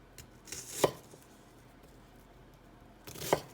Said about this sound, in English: just slice it down. That's what we're looking for, just a simple diced onion